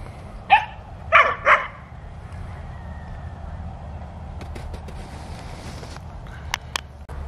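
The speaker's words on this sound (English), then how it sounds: "Getting the puppies to bark." A seven-week-old German Shepherd puppy gives three sharp barks close by, then quiet ticks and a faint background hum follow.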